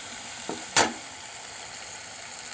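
Egg masala frying in oil in a pan, with a steady soft sizzle throughout and a single sharp spoon scrape as it is stirred.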